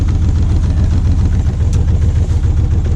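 A yacht's engine runs at a steady idle with a dense, continuous low throb, close and loud, with no talk over it.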